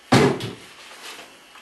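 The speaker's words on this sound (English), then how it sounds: "Just then a door banged." A single sharp door bang, loud and close, followed by a short fading rattle and a faint after-knock.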